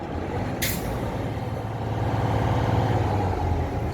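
A Hyundai Accent engine idles with a low, steady rumble and rises slightly as the accelerator pedal is pressed, after a brief sharp hiss near the start, heard close and with no talk.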